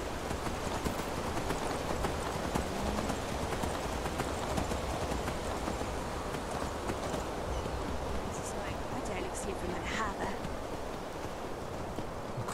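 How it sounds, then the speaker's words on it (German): Donkey hoofbeats clop in a steady, continuous rhythm while riding through the video game Enderal, close and prominent against a background of wind and water ambience. "Wir sind schon ewig nicht mehr auf Eselchen geritten."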